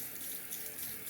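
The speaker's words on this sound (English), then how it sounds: "I'm gonna wet it underwater" Tap water runs steadily onto a soft Arkansas sharpening stone being wetted for honing, a continuous close hiss and splash that is fairly quiet and heard alone without talking.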